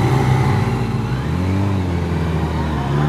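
A 2015 Yamaha FJR1300 motorcycle engine hums steadily at low revs in first gear while riding on the street, close and continuous with a smooth, droning tone.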